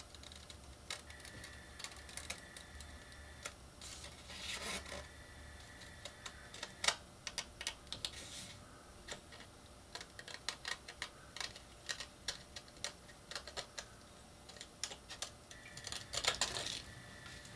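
Quiet, close snips of scissors cutting decorative paper, scattered crisp clicks and small crunches at irregular intervals with faint paper rustle between them and no talking.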